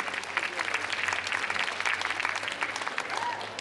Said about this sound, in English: Round of applause for the ladies.